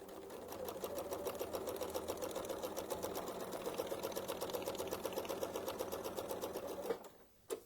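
A sewing machine stitches leather with a fast, even train of mechanical clicks and thumps that runs at an unbroken rhythm before stopping abruptly, followed by a brief rustle.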